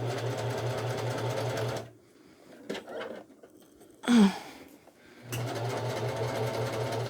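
A sewing machine stitching a seam on a shawl runs in a steady, close whirring hum, stops for a few seconds of quiet with a brief clatter, then starts up again.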